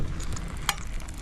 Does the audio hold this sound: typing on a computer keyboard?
no